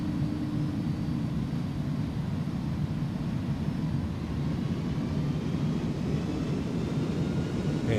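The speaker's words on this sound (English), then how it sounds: "goes down gently, reversers deployed" Airliner engines roaring steadily through thrust reverse on landing, an iniBuilds Airbus A300 in X-Plane 11 arriving at Louisville; a loud, continuous low rumble with broadband hiss lasting throughout.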